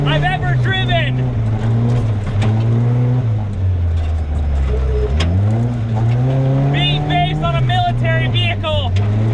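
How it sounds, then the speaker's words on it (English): A Tomcar TX 4x4 UTV drives off road, its engine droning loudly and rising and falling in pitch as it revs and accelerates, steady and close throughout. "the Tomcar TX is frankly one of the most exciting vehicles I've ever driven"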